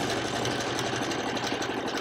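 A sewing machine stitches a patchwork pillowcase, running as a steady, close, continuous whir with a fine mechanical rattle and no pauses or voices.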